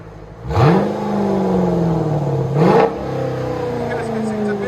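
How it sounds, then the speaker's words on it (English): A Jeep Grand Cherokee SRT 6.4L HEMI V8 with an aftermarket exhaust gives two sharp revs that rise and then settle back to a deep, steady idle, close and loud. "So you gotta really rev on it."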